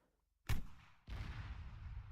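High-explosive tank shell going off in the military game Arma 3: a sharp, heavy blast followed by a second booming impact that rolls into a long, loud rumbling tail.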